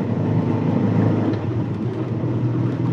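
A car engine drones steadily at a loud, close level, its pitch shifting as it pulls through the gears.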